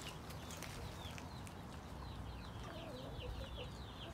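Hens cluck on a Brazilian farm raising Índio and RGB chickens, with soft chirps and clucks mixed into a steady, busy outdoor background.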